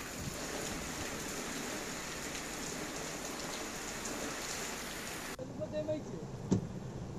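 Rain falls in a steady, dense hiss for about five seconds before the scene cuts to a quieter background with a few faint knocks.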